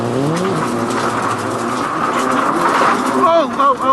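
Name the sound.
rally car driving on punctured tire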